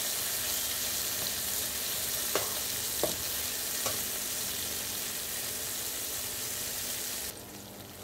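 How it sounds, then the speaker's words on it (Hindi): Okra fries in a pan with a steady, dense sizzle that holds constant throughout, broken by a few soft knocks, and drops slightly near the end; nobody speaks. "ये हमारी भिंडी फ्राई हो चुकी है।"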